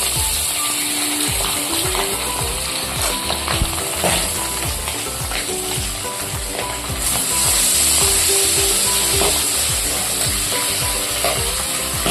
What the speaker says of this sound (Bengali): নুন হলুদ মাখানো পাবদা মাছগুলো ভেজে নেবো একে একে